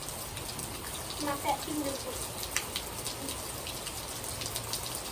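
Rain falls steadily outside, a dense patter of drops hitting surfaces, with a brief spoken remark partway through and a few sharper splashes.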